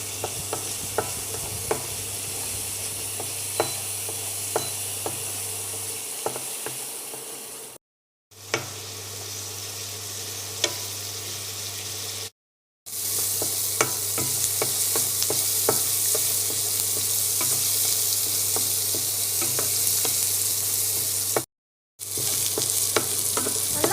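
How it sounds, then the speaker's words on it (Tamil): Small shallots frying in hot oil for a Kerala-style banana leaf fish fry: a steady, bright sizzle with scattered spatter pops and occasional stirring clicks, cut by brief silent gaps, with a low steady hum underneath. "இப்போ நம்ம கட் பண்ணி வச்சு சின்ன வெங்காயத்தை நம்ம ஆட் பண்ணிக்கலாம். இது இப்போ நல்லா ஃப்ரை பண்ணிக்கலாம்."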